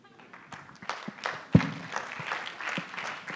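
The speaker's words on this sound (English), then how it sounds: "Indeed, a round of applause for them." Audience applause at an arbitration week event in Nairobi, a short burst of scattered clapping in a conference hall that swells briefly and continues at moderate level.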